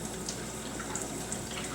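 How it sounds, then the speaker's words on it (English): Cool tap water runs gently over fresh herbs being rinsed, a faint, steady hiss of flowing water without speech. "So I'm just going to run them under cool water gently"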